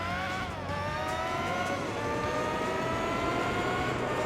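Race car engine in the video game Gran Turismo 4, a steady, loud, high-pitched whine holding near-constant revs with slight pitch shifts, continuous throughout with no talk.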